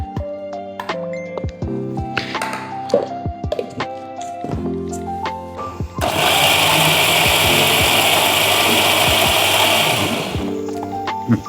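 Light clinks and knocks come first, then a kitchen mixer grinder roars loudly for about four seconds as it grinds black peppercorns, coriander and half a tomato into a coarse paste, before stopping.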